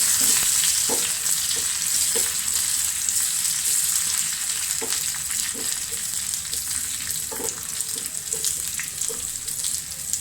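Crackling sizzle of curry leaves and red chilies in hot oil with repeated clinks and scrapes of a spoon stirring, close and continuous.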